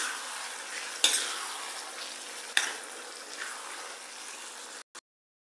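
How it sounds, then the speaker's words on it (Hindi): Masala with finely chopped capsicum frying in a pan, a steady close sizzle broken by two sharp stirring scrapes, fading out near the end. "अब इसमें थोड़ी देर हम शिमला मिर्च डाल के गलाएंगे"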